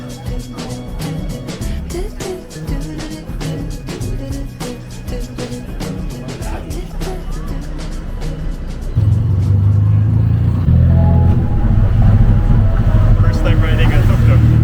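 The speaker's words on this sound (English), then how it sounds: "First time riding a tuk-tuk" Small motor of a tuk-tuk rattles along during a ride in Thailand, with a busy engine and road drone that swells into a louder, deeper revving roar partway through, and voices talking over it.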